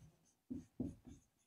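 A pen writing on paper, with several soft, close scratching strokes in quick succession, faint and alone.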